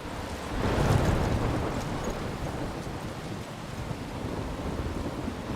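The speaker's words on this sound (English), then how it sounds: "I'm trapped in a storm?" Thunderstorm in the video game Life Is Strange: a low rolling rumble of thunder swells early and then eases into a steady wash of heavy rain and wind that carries on to the end.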